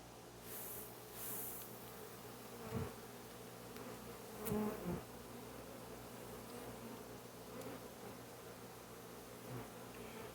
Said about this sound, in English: Some very healthy young bees.